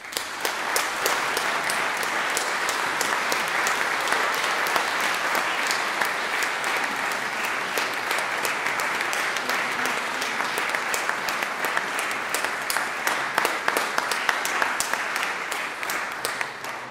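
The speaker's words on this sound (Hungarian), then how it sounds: "Szerintem ma még bőven lesz alkalmunk tapsolni, hagyjunk későbbre is." A concert hall audience at a saxophone performance applauds steadily, a dense, even wash of many hands clapping throughout without pause.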